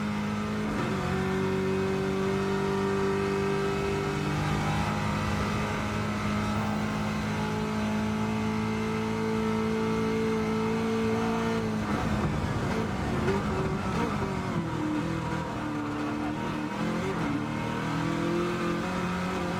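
A race car engine in Gran Turismo 7 at Bathurst holds a steady, droning mid-pitched whine, with a quick upshift breaking the tone partway through before it settles again. The sound is continuous and fairly even in loudness.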